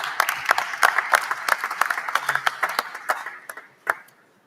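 Audience applause at a WBC boxing convention ratings session in Acapulco: a moderate crowd clapping briskly, the claps thinning and tapering off to a few last strokes.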